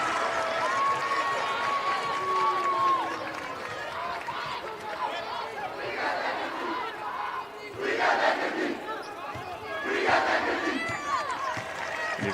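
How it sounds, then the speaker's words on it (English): Bishop Heelan student section cheering on their Crusaders at a state girls' basketball quarterfinal, a large crowd roaring steadily with louder surges, mixed with arena chatter and a commentator talking over it. "a very sizable contingent coming in from Bishop Heelan student section. Cheering on their Crusaders."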